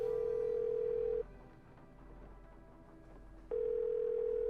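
A telephone dial tone in the video game Nancy Drew: Legend of the Crystal Skull, a steady faint electronic hum that sounds, cuts out for about two seconds, then resumes unchanged.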